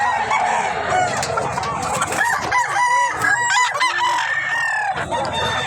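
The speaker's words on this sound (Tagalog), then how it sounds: "Nandito po tayo sa mga bintahan po ng mga manok." Several fighting roosters crow loudly and close by at a public market in Lemery, Batangas, their calls overlapping with clucking and busy background bustle, no one speaking.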